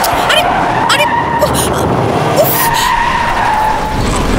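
A taxi skids hard under rash driving, with loud screeching tyre squeals rising and falling along with engine noise and a dog's yelps, close and intense in an action film scene.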